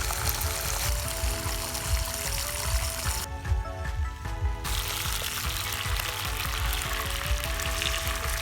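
Pork chop and egg frying outdoors for breakfast, a steady crackling sizzle running throughout at close range, with faint background tones and no talk.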